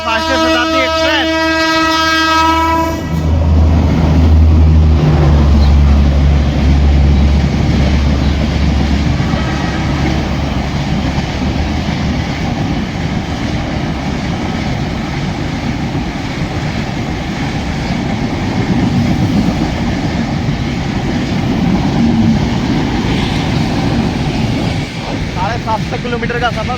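The 12002 Bhopal Shatabdi Express passes close by, opening with a loud blast of its horn, then a sustained heavy roar and rumble of coaches rushing past for a long stretch.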